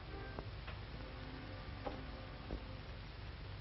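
An alarm clock ticking in a quiet bedroom, a faint, soft tick sounding now and then against steady low background hiss.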